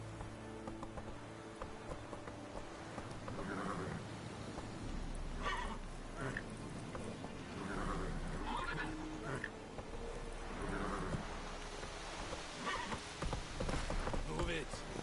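Roach, the horse in the video game The Witcher 3, galloping with rhythmic clip-clop hoofbeats and occasional whinnies over a low continuous game backdrop, steady at moderate loudness throughout, with voices speaking at times.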